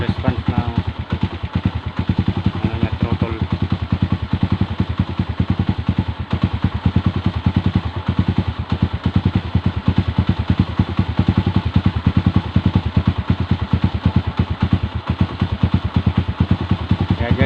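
A motorcycle engine runs at a steady idle while its carburetor is being adjusted. The close, even mechanical chugging and clatter continue without a break for the whole stretch.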